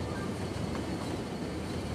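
A Union Pacific cargo train rolls by in the video game Cities: Skylines, a steady, dense rumble of wheels and rail noise that stays even and unbroken, with no voices.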